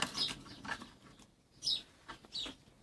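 Small birds chirp and flutter in short bursts around a homemade plastic bottle feeder with a little roof, close by with quiet gaps between calls.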